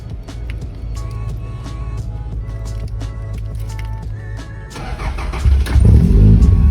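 Car with a suspected faulty starter cranking for several seconds in an even rhythmic churn, then catching and firing into a louder, rough idle near the end, close by with no speech.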